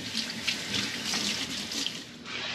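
Tap water runs steadily into a kitchen sink while potatoes are washed, a close, constant hissing splash with faint knocks of the potatoes under the stream.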